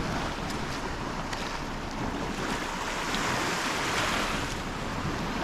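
Steady surf washes and breaks along the shore at Kuşadası, with wind buffeting the microphone throughout.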